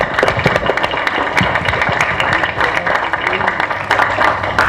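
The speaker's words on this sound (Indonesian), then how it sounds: "Monggo para hadirin beri tepuk tangan." A crowd claps continuously, dense and steady, a loud round of applause with no voices standing out.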